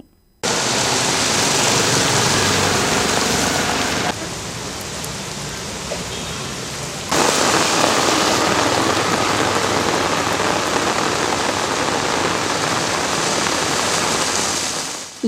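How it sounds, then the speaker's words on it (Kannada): Steady, loud rain falling in Chikkaballapur district, a dense even hiss that briefly softens in the middle before returning at full strength, with no voices. "ಚಿಕ್ಕಬಳ್ಳಾಪುರ ಜಿಲ್ಲೆಯಲ್ಲಿ ಮಳೆಯ ವಾತಾವರಣ ಸೃಷ್ಟಿಯಾಗಿ ಆಗಾಗ ಮಳೆಯಾಗುತ್ತಿದ್ದು"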